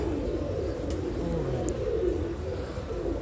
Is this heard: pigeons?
yes